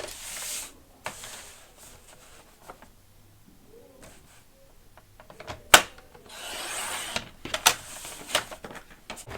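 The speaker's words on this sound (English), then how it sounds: "So now I'm going to take my trimmer, and I'm just going to trim away" A paper trimmer slices through a sheet of crafting paper with short scraping and rubbing strokes, brief sharp snaps and sliding passes close by in a quiet room.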